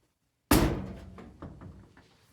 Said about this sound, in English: All right, close the door.